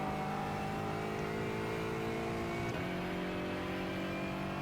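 A GT4 race car in iRacing during a Falken Tyre Challenge race runs with a steady whirring engine tone that rises briefly before a gear change and then holds at a constant pitch.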